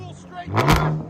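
A 2015 Chevy Camaro V6 with true dual straight-pipe exhaust and 5-inch tips barks into a loud, close rev that swells and holds briefly before easing off, over a low idle rumble.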